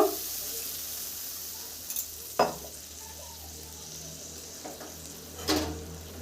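Spices for butter paneer masala cooking in a pan with a splash of water, a soft steady sizzle broken by a few spoon scrapes and clatters against the pan.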